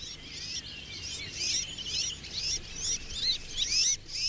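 Birds call in an Extremadura oak woodland in Spain, a series of short, bright chirping calls repeating about every half second, fairly faint against a soft background hiss.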